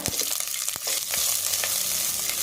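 Fresh curry leaves splutter loudly in hot oil, a bright continuous sizzle broken by sharp crackling pops, close and without any voices.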